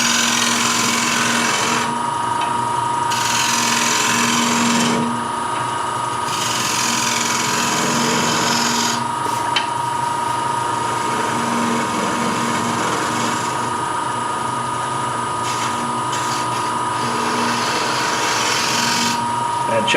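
A wood lathe spins a wooden platter while a gouge flattens its face, giving a steady close-up whirring hum with scraping cutting noise that swells and eases in repeated passes.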